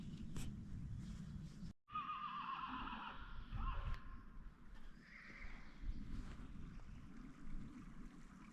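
A horse whinnies loudly in a long, wavering neigh, followed by a shorter whinny, over outdoor background noise on a mountain trail in the Pyrenees.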